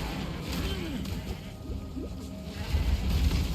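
Goat bleats from the video game Path of Exile, a few short wavering cries amid game combat sounds with thuds and impacts, moderately loud and rising toward the end.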